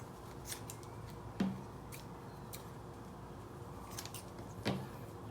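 Scissors snip fabric for a homemade no-sew face mask, with a couple of faint, spaced cuts over a steady low background hum and no speech.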